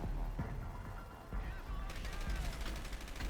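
Rapid gunfire from the game Dark Sector crackles in a steady, moderately loud stream, growing denser toward the end, with a voice briefly heard.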